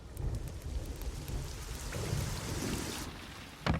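Rain falls outside during an anime scene, a steady dense hiss with low rumbling, ending in a brief sharper crack near the end, with no talking.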